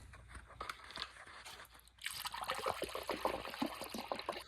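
Coolant poured into a Honda Integra's cooling system, a close, quiet liquid trickle and splash that swells into a fuller gurgling pour partway through.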